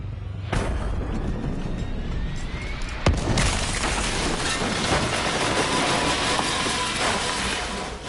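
A crashing aircraft in the Black Ops 3 game: a sudden loud impact, then a second sharp boom, followed by a sustained heavy rumble and roar of wreckage.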